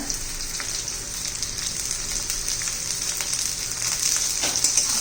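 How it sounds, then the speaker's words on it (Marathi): Onion, capsicum, carrot and peas sauté in a hot pan, giving a steady, dense hiss of frying with faint stirring taps throughout and no talking. "आणि मस्त आपलं परतून घेऊया"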